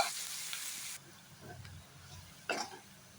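Onions for egg podimas sauté quietly in a pan, a soft low sizzle broken by a couple of louder stirring scrapes, fairly faint and close.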